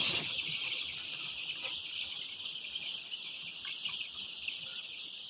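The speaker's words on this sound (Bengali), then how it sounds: "সোনালি মুরগির বাচ্চা।" Sonali chicken chicks about a week old on a poultry farm, a steady high-pitched chorus of continuous peeping that fills the scene without pause, close and fairly even in loudness, with no talking.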